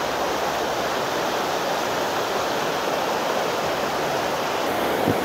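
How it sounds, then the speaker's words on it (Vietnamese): Loud, steady roar of a fast-flowing flash-flood stream rushing over its bed, with rocks being carried along and knocking underwater, heard close and continuous with no speech. "Nước nó chảy xong là đá nó kêu lục cục ở dưới dòng suối ấy"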